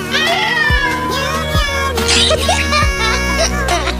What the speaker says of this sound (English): The father cat came home, crying